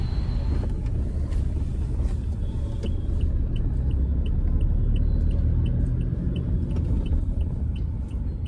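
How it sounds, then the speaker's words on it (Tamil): Heavy road traffic outside, a steady low rumble of engines and tires from many vehicles, continuous and fairly loud with faint higher ticking over it. "வெளியில் பார்த்திங்கன்னா பயங்கர டிராஃபிக்கு"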